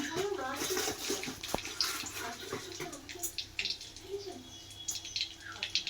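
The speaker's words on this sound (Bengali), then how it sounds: "জিরে ফোড়ন দিলাম, তেজপাতা" Cumin seeds and a bay leaf sizzle in hot oil at the start of a Bengali tempering. The steady, close crackling hiss has small pops, and faint talk sits beneath it.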